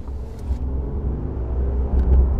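The big engine of a 2018 Audi A8 luxury sedan accelerates, a steady deep rumble heard from inside the car that builds slightly toward the end.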